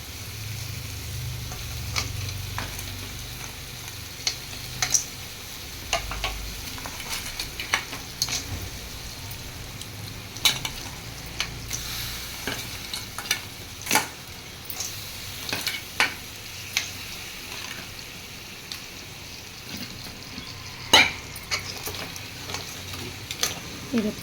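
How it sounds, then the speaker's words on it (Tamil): Crab gravy sizzles steadily in a pan while a spoon stirs it, with frequent scraping clicks and knocks over the continuous fry, loud and close. "இது கிண்டுறது தான் கஷ்டமாக இருக்கும்."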